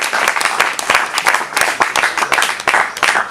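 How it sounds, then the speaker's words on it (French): An audience applauds at an outdoor community event, with dense, steady clapping from many hands that stays loud and continuous for a few seconds. "Acclamons tous pour cette activité."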